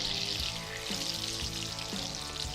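Heavy cream, a couple of tablespoons, is poured into sizzling butter in a pan, giving a faint, steady hiss with soft bubbling pops throughout.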